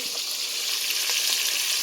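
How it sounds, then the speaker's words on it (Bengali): Fish frying in a pan, a loud, even, close-up sizzle with bright crackling that holds steady throughout. "এখানে মাছ ভাজা হচ্ছে"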